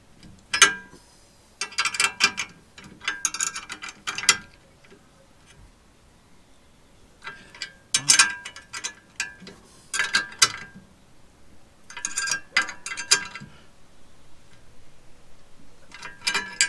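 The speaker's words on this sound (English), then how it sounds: "I'll just tighten up these two bolts for the uprights" Bike rack upright bolts are tightened on a Renault 4, most likely with a ratchet. Close, rapid clicking comes in repeated bursts of a second or two, separated by quiet pauses.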